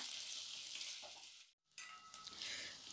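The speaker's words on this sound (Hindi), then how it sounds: "अब इसमें हम ब्रोकली का जो डंठल काटे हैं उसे भी डाल देते हैं और इन सभी चीज़ों को अच्छी तरह से पहले हम भून लेते हैं" Broccoli stalks frying in a pan with spices, a bright close sizzle that runs throughout, falls away to near silence for a moment mid-clip, then resumes.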